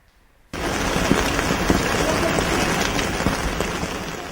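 Morning rain in Srinagar, a steady broad hiss of rainfall that starts abruptly after a moment of quiet and continues evenly, moderately loud, with no clear talk.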